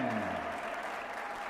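Crowd clapping for team players being introduced on center court at a North American table tennis team championship final, a short burst of steady dense applause with an announcer's voice trailing off at the start.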